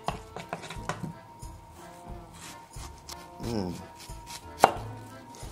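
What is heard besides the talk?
chopping onions with a knife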